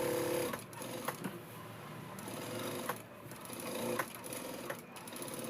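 A sewing machine runs in a steady, fast mechanical whir while stitching a Punjabi dress, with a few brief pauses and clicks, close and continuous, and no voices.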